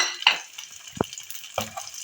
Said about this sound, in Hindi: हल्का सा इनको घी में फ्राई कर लेते हैं